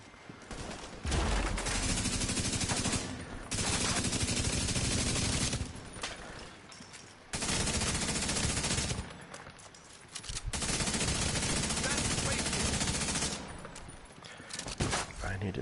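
Sustained assault rifle fire in The Division 2, loud bursts lasting several seconds each, separated by brief pauses, with rapid repeated shots forming dense fusillades.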